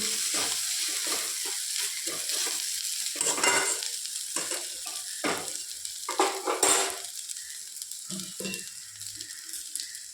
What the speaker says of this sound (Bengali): এইভাবে কিছুক্ষণ নাড়াচাড়া করে নেব। কিছুটা নাড়াচাড়া করে নিচ্ছি।